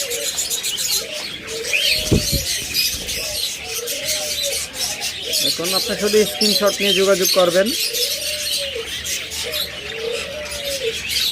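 Pigeons at a bird farm give repeated soft, throaty coos in short phrases, some overlapping, close by, while someone talks throughout.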